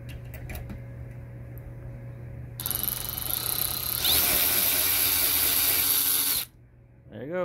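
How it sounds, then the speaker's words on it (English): A Ryobi One+ 1/4-inch cordless ratchet driver spins in reverse to back a nut off a bolt, starting with a few clicks, then a loud whirring run of a few seconds that rises in pitch before stopping. "Let's reverse this nut off of this bolt here."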